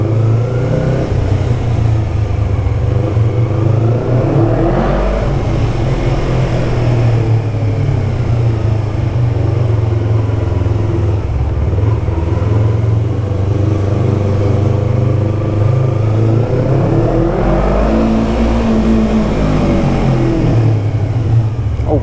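A motorcycle engine idles and revs inside a parking garage, loud and close, its rumble swelling and easing several times with a reverberant, enclosed echo.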